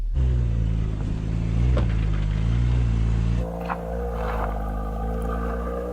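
A Porsche SUV engine labours through an off-road challenge course, one wheel lifted off the ground, with a steady loud drone that drops to a lower, rougher tone partway through.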